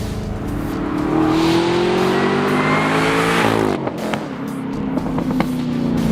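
A deep 580-horsepower 6.2-liter supercharged V8 in a fifth-generation Camaro ZL1 revs hard and loud up close, pitch rising for several seconds before dropping off and settling into a rumbling idle.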